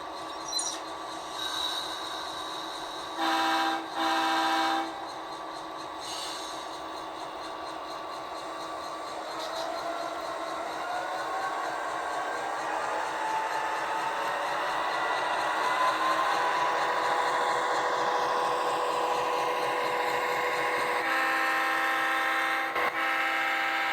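An Athearn Genesis 2.0 MP15AC model locomotive in Milwaukee Road #460 livery, fitted with Tsunami 2 DCC sound, runs by at speed notch 8 with a steady diesel drone and several brief horn blasts, growing louder in the middle.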